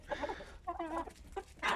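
A tiny six-month-old rooster that never grew clucks in short, close bursts of throaty calls with brief pauses between them.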